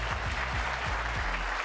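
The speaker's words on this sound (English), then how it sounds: "Everyone, please join me in giving a big round of applause to Sara M. Lee." Applause from an audience at a keynote presentation during a corporate retreat in Napa Valley, a steady wash of clapping over a low rhythmic music bed, fairly quiet and continuous.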